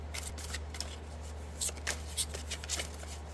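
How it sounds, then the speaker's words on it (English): A deck of cards is shuffled by hand in a few quick riffling bursts, close and crisp over a low steady hum. "I'm just going to shuffle"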